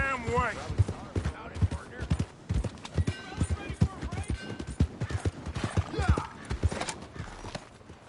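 Horse hooves clip-clop on a street in a PS4 video game, with a brisk, uneven run of close, sharp hoofbeats, short neighs, and brief voices talking over them.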